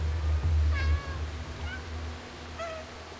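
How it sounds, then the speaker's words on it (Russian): Soft, quiet cat meows from the video game Stray, a few brief mews spread out over a low steady rumbling background. "Он такой негромко мяукает"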